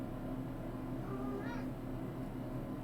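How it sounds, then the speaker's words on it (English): A house cat gives one clear, rising-and-falling meow over a steady low background hum, with no voices. "Why are you meowing?"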